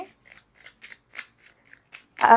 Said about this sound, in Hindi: सो थोड़े से कार्ड्स और निकाल लेते हैं